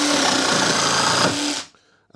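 Evolution R90JGS cordless jigsaw cutting through pallet wood, a loud, continuous buzzing saw drone heard up close that runs steadily for about one and a half seconds, then cuts off abruptly into near silence.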